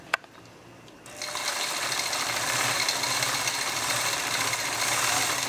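A sewing machine running steadily through free-motion quilting, a fast continuous mechanical whir and rattle that starts after a brief quiet moment and holds at an even level with no speech.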